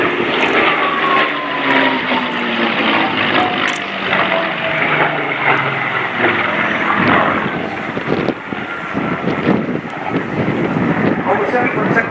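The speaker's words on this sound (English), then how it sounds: "our two dogfighters run in once more, this time the Spitfire chasing the Buchón" A Spitfire and a Hispano Buchón piston fighter flying past at an airshow, their engines a loud continuous drone with pitch sliding downward as they pass, wind buffeting throughout and a voice talking underneath.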